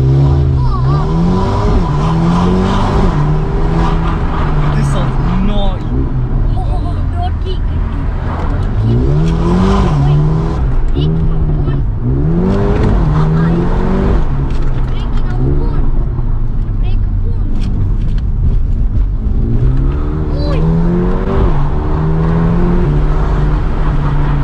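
A car spinning in repeated circles, its engine revving up and down in waves with tires squealing and skidding, loud and close, while people talk over it throughout.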